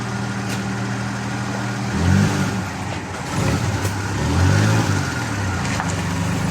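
A Suzuki Multicab engine, just back from a carburetor repair, idles roughly and then revs up twice in rising surges before settling back, a loud, close, steady drone between the pulls.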